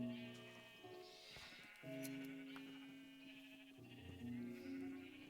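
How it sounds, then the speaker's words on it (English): Several sheep in a video game bleat in overlapping, wavering calls, one after another, fairly clear and close against a quiet background, with no talking heard. "Let me know if the sheep are being loud."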